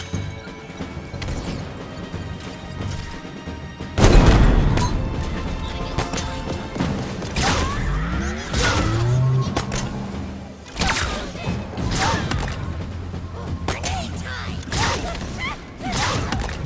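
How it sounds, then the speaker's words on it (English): Heavy tank gun shots boom out in Halo Infinite, a big impact blast near four seconds followed by further thumping hits and crashes amid ongoing combat noise. "we're just gonna deal with this elite with the tank gun"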